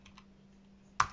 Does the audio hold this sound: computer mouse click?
yes